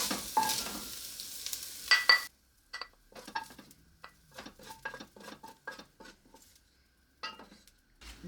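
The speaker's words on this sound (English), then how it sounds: "I'm going to remove the bacon" Fried bacon lifted out of a sizzling pan while making chicken soup: a loud frying hiss at first, then quieter scattered clinks and scrapes of utensils against the pan with soft crackle between them.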